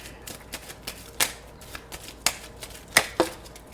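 Tarot cards being shuffled by hand, a handful of soft, irregular riffling and slapping bursts with quiet gaps between them, close and alone.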